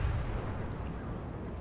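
Cannon broadside from a French frigate in a Napoleon Total War sea battle, a deep rumbling boom of massed guns rolling on for the whole short moment, muffled and low.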